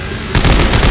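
Automatic gunfire in the co-op sci-fi horror game Dead Space 3 erupts as a loud rapid burst of shots, coming in abruptly after a brief moment of background noise.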